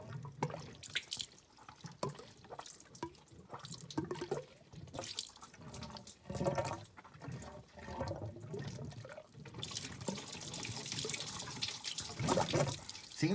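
Water rushes and splashes through a heater core hose on a 2002 Dodge Ram 1500 pickup, an uneven gushing at first that settles into a steadier, louder rush near the end, with no voices.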